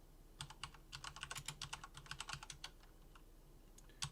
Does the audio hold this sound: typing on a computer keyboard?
yes